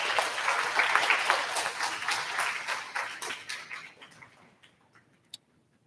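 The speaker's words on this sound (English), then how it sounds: "If we can give them a round of applause as well." Audience round of applause at a 5th grade DARE graduation ceremony, dense and steady clapping for about four seconds before thinning out to a few scattered claps and fading to quiet.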